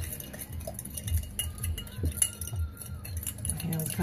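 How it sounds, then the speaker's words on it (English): Limes and sugar stirred for a caipirinha, Brazil's national cocktail, with a utensil clinking and scraping against the glass in a steady, close, uneven rhythm, and a voice talking quietly underneath. "So, stir it up, make kind of a simple syrup."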